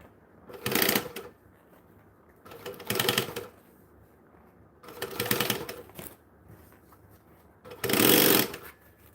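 A sewing machine stitching fabric runs in four short, loud bursts of rapid mechanical chatter, close up, separated by quiet pauses.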